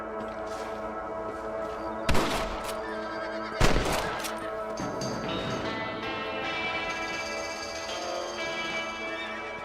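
Two sharp rifle shots ring out in Red Dead Redemption while shooting rabbits, a few seconds apart, loud and close over a steady music-like background.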